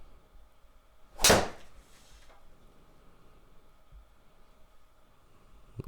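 One sharp whoosh-thwack of a golf club striking a ball on an indoor simulator, followed by a faint trailing sound and quiet room tone.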